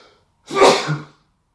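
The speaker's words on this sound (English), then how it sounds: "so I'm gonna sneeze." A single sharp sneeze, close and sudden, preceded by a short breath and trailing off quickly.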